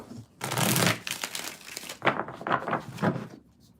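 Tarot cards shuffled by hand in a handful of quick riffling, crinkling bursts, close and fairly loud, with no talking over them.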